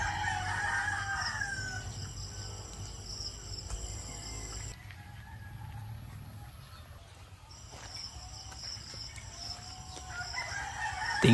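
Layer hens fill a poultry house on an egg farm with steady, moderately distant clucking and an occasional rooster-like crow, over a constant high insect buzz and faint background voices.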